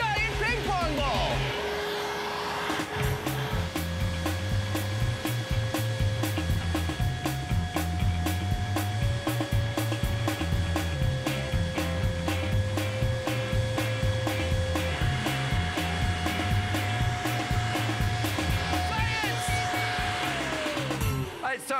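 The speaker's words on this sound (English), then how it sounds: "we have to max it out with a giant hairdryer and a giant ping pong ball!" A loud, powerful blower roars continuously like an oversized hair dryer, a steady droning whoosh with a melodic tune playing over it.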